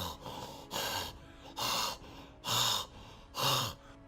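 A voice imitating heavy breathing: four loud, rasping breaths, each about half a second long, at a steady slow rhythm with short pauses between, close to the mic.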